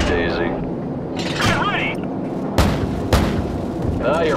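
Gunship cannon fire in the Death From Above video game, with several sharp heavy booms spaced a second or so apart amid radio chatter and game noise.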